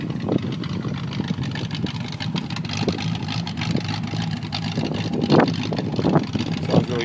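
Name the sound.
1970 Pontiac Catalina V8 engine running, dual exhaust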